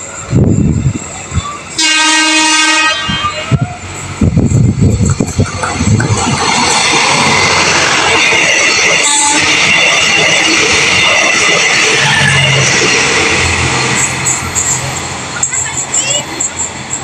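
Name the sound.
KRDE feeder train horn and passing train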